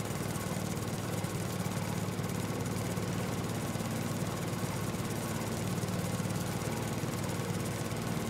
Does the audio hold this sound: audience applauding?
no